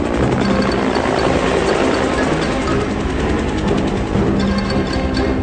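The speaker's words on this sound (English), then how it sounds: "The straps are reconfigured and connected to a cargo cable from the Sea Stallion helicopter." A Sea Stallion helicopter lifting a roughly 1,500-pound cargo load on a cable roars loudly and steadily with a dense rotor and engine drone, continuous throughout and with no other sounds.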